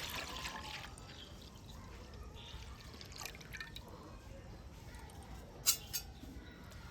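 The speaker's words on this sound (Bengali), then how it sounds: "কড়াতে দিয়ে দিচ্ছি এক লিটার দুধ লিকুইড দুধ" One litre of liquid milk pours into a wok as a soft, faint trickle and splash over a quiet room, ending with a couple of small drips or knocks.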